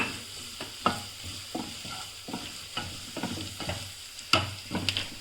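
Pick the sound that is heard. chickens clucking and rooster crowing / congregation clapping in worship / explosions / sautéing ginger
sautéing ginger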